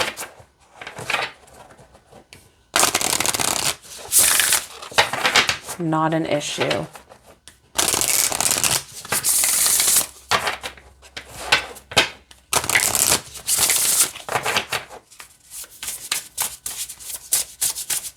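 Repeated bursts of cards being shuffled close up, crisp riffling rattles separated by short pauses, with a person speaking briefly between them.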